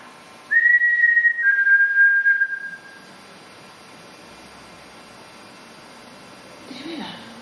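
A single steady whistle, loud and near, holds a high pitch for about two seconds, sliding slightly lower before fading into quiet room hum during a ghost hunt at Sutton House.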